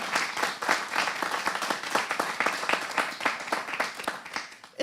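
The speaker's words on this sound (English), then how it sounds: "So give them a big round of applause." A live audience applauds at a college department event, dense steady clapping filling the room for several seconds and swelling again at the end, with no talk over it.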